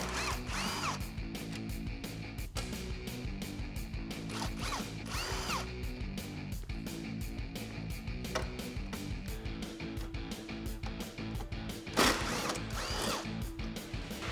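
A power drill or ratchet driving a 10mm socket removes bolts from the headlight trim bracket of a 2018-2020 Ford F150, a steady mechanical whir running continuously throughout at close range with no talk.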